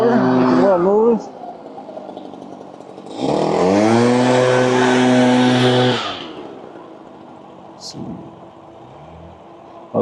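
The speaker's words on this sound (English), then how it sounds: "there's a guy with a leaf blower making a lot of noise." A leaf blower runs nearby on a hillside, its loud, steady engine roar swelling for a few seconds before dropping back to a lower drone, with faint voices at the start.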